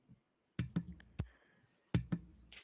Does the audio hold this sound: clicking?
yes